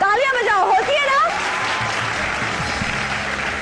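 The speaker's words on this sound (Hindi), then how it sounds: "तालियां बजाओ।" A TV studio audience bursts into steady applause, loud and sustained, with a voice speaking briefly at the start as the clapping builds.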